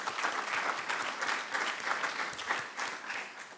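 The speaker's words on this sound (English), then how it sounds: "I think that deserves a big round of applause" An audience at the AFC Champions League 2014 knock-out stage draw ceremony gives dense, sustained applause, a steady wash of many clapping hands throughout.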